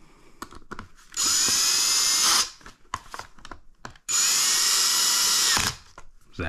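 A power drill drives mounting screws into a ceiling fixture during a ceiling fan installation, with two sustained whirring bursts of about a second and a half and three seconds, separated by small clicks and handling noises.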